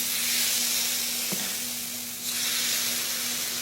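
Cornmeal sizzling in hot oil in a skillet, a steady broadband hiss of frying that dips briefly and then swells again, with a faint low hum underneath and no talk.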